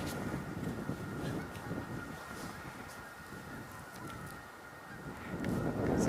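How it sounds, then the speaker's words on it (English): Geese honking out in a grassy field, several calls scattered through steady outdoor wind noise, distant and moderately faint. "quite a few geese out there in the grass"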